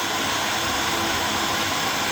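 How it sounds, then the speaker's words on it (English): A small 12 V DC motor on a low-cost three-axis CNC milling machine runs with a steady, even whir and hum throughout, heard alone with no talking. "This motor is rotating."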